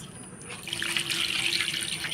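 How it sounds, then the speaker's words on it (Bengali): A kitchen tap runs while goat meat is washed in a sink, a steady close splashing gush that swells slightly as the water hits the meat. "তো প্রথমে আমি মাংসটা ধুয়ে নিব।"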